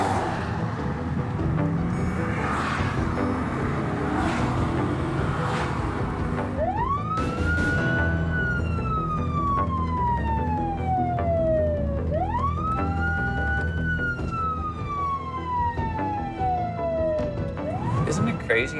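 Police siren wailing in long rising and falling sweeps, three slow cycles, loud and close over steady vehicle road noise, with people talking underneath.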